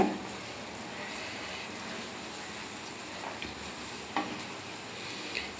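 Black cumin and fenugreek seeds crackle in hot oil, making a steady, even sizzle that runs throughout at moderate volume, with a few faint clinks from stirring.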